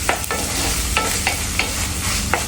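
Crushed cinnamon and clove frying in a pan, a steady close sizzle with several sharp stirring scrapes spaced through it, with no voices.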